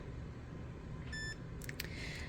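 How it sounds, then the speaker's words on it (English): Mini Educator e-collar remote with its button held down, giving a short faint electronic beep followed by a couple of quick clicks over quiet room noise. "you're going to hold that down until it beeps"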